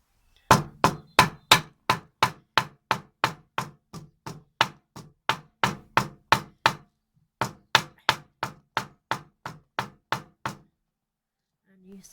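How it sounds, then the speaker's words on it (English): Hammer blows strike flowers such as violets, bluebells and dandelions laid out for flower art, a steady run of about two dozen sharp, close knocks, a brief pause, then another quick series before the sound stops. "You take your hammer."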